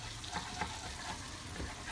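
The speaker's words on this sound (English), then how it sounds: "Some butter, almost melted all the way." Butter almost fully melted in a pan, giving off a soft, steady low sizzle and faint crackle with no talking over it.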